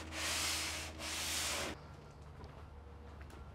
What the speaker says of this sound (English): we finished sanding the third layer of fairing compound over the entire hull now